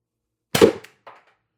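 A TR50 Torpedo gun fires a single sharp shot in a quiet space, followed by a fainter short second report, close and brief.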